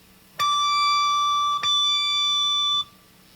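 A single bright electric guitar note struck cleanly, then repeated once by a digital delay about 1.2 seconds later with no further repeats, each ringing steadily before stopping.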